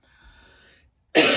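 A single harsh cough from a person with a rotten cold bursts out loud and close after a stretch of quiet, faint background hum.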